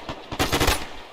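Automatic rifle fire in the military shooter Arma 3, a fast rattling burst of shots from about midway through, loud and close, with no talking over it.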